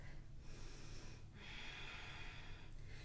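Audible breathing held in a yoga pose such as chaturanga: a few close, forceful nasal exhales and inhales in a slow rhythm, over a steady background hiss.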